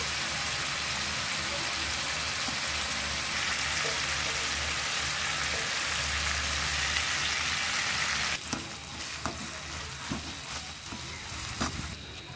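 Bananas frying in a pan with turmeric and salt give a steady close sizzle, then stirring clatters and scrapes in the final seconds, with no talking.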